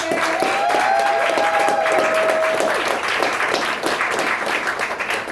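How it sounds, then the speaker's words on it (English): Comedy club audience applauding and cheering at a stand-up show, a dense, steady wash of clapping that stays loud throughout, with a whistle-like tone and crowd noise mixed in. "And clap it up for yourselves for being here."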